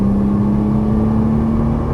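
Nissan GT-R engine pulling hard under full throttle on a race track, a steady loud droning roar with a strong sustained tone, close and continuous with no voices.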